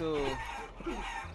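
A chicken in the video game Guacamelee lets out a short burst of clucking, brief and close, with a voice speaking over part of it.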